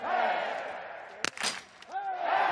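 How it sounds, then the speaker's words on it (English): Spectators cheering for Germany at a men's biathlon relay in Hochfilzen, a brief burst of crowd noise between stretches of commentary voice, moderately distant. "The cheer is for Germany."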